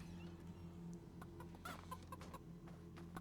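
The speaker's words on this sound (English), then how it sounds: "And yes, you can pick up the chicken." Chickens cluck softly in a video game, a few short clucks scattered over a steady low hum, fairly faint and alone with no talking.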